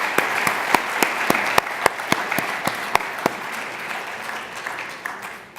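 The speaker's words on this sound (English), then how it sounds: "Can we have another big round of applause for our sponsors" Audience at a Cayman Islands healthcare conference applauding its sponsors, with steady dense clapping and a few sharper individual claps standing out, no voices over it.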